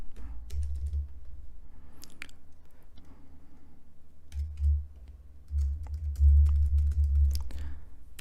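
Soft, irregular keyboard typing in short bursts of clicks, fairly close, with brief pauses between and a low hum underneath.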